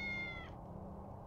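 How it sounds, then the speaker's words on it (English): A cat meows once in the video game Tales of the Neon Sea, a short, clear, tonal call heard alone over a low game ambience. "It's just an evil cat."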